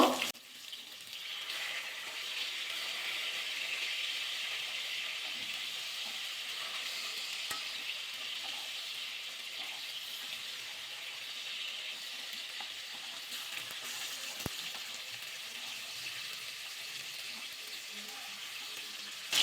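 Flipped fish pieces keep frying in hot oil, giving a continuous even sizzle with occasional faint clinks of a utensil against the pan.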